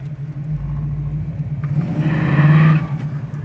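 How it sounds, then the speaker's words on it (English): A 1967 Pontiac Firebird convertible's 326 V8 rumbles at a steady low idle through its exhaust, then swells into a louder rev before dropping back. "And I love that that exhaust sound with it."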